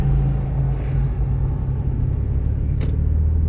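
Inside a manual transmission car driving on the highway in third gear, a steady loud low engine and road rumble drones throughout, with no talk.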